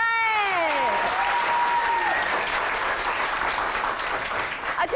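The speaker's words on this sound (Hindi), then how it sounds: "तालियां दिल खोल के बजाएं" A studio audience of children claps loudly and steadily on a weekend TV show's Quaid-e-Azam Day special, while a high wavering cry rises and falls over the start of the applause.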